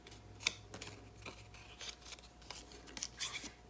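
Paper being folded and creased by hand for a heart-shaped album craft project, giving soft close rustles, scrapes and sharp crinkles at irregular intervals, quiet with no talking.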